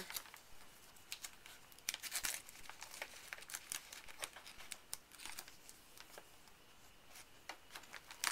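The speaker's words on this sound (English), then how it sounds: "And I take a strip of a paper towel" Paper towel strip being torn and handled in a kitchen, giving brief crinkling and ripping bursts that come and go over the whole stretch, fairly close and soft, with no voices.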